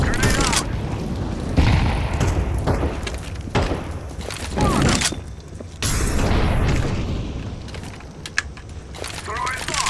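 Counter-Strike 2 gameplay with heavy booming blasts and gunfire-like bursts from a grenade explosion, loud and dense, mixed with keyboard clatter and a player talking.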